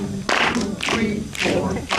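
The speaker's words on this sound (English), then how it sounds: "That's a 2-3 clap." Hands clapping a 2-3 clave rhythm, sharp claps in short bursts with a brief pause between groups, heard close and dry.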